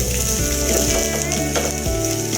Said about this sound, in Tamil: அந்த பிசு பிசுப்பு போகிறதுக்காக தான் நம்ம எண்ணெயில் வறுத்து எடுத்துக்கிறோம்